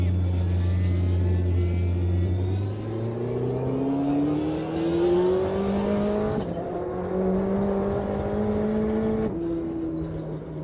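An Audi LMP1 prototype racer in Automobilista 2 at Road Atlanta, 2005 historic endurance spec, its engine loud and close as it revs upward through gears in long steady climbs with brief shift breaks.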